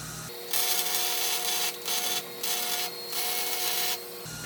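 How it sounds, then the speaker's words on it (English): Welding a steel garden gate with a weaving continuous bead: a loud, steady crackling hiss that cuts off and restarts in several bursts of about a second each, with no talking. "It's cold enough that I can do a continuous weld by weaving back and forth to just finish my weld."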